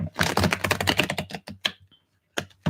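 Tarot cards being shuffled during a psychic reading: a dense, rapid flutter of riffling card edges, close and crisp, followed by a few separate slaps and taps as the deck settles, with no voices.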